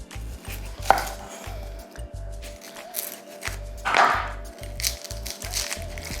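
A knife chopping vegetables for chicken soup makes a brisk series of close, firm thuds on a cutting board, broken by a couple of short pauses and a louder clatter, with no talking.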